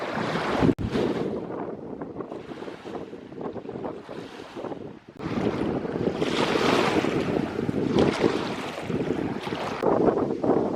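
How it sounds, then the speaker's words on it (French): Strong wind gusts buffet the microphone beside a very large lake, with water lapping and washing against a boat, steady and loud throughout with surges in intensity and no talking. "Ce qui va avec la belle vue, c'est le beau vent."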